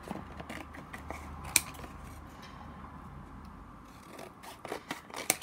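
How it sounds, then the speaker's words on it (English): Scissors snipping around textured craft tag pieces, quick close crisp cuts in uneven clusters with brief pauses, no voices. "So I'm just going to cut round these pieces."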